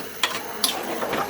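Hot water from boiling lentils poured into a pan of frying chana masala, a few short splashy bursts of sizzling and stirring over a soft background hiss.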